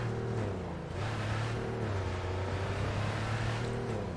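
A Porsche car in Cyberpunk 2077 drives along with a steady engine drone, the pitch shifting slightly as it cruises, continuous and moderately loud with no talking.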